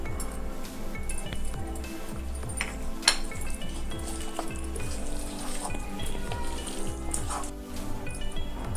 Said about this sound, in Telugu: ఇప్పుడు పసుపు వేసి కలుపుకుందాము.